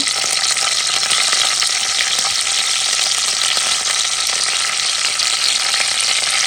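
Loud, steady sizzling of a spice tempering frying in hot oil, close up and continuous with no talking.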